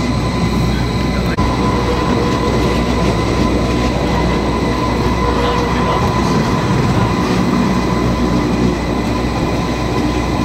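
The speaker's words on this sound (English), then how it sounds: "and we're going to go on the cogwheel train." Cogwheel train climbing Mt Rigi from Vitznau, a loud, continuous rumble of wheels and motors from inside the carriage, with a steady mechanical hum and a sharp click near the start.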